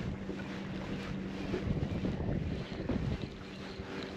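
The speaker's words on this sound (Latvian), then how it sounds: "nu tagad it kā bišķi mazāks tas vējš" Strong wind roars steadily over a lake during a fishing trip, a loud continuous buffeting rush against the microphone with waves lapping beneath and no talk.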